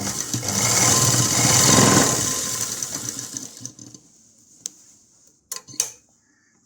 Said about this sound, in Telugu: ఇంకో డబల్ కుట్టు వేస్తున్నాను